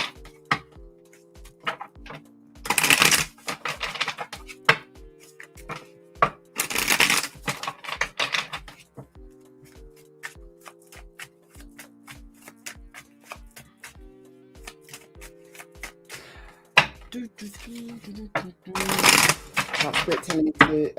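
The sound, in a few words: shuffling tarot cards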